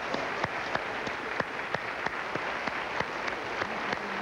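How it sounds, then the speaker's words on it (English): A studio audience at a country music television show applauds steadily, with a dense patter of clapping and sharp individual claps standing out, heard alone and without voices. "Would you please applaud everybody?"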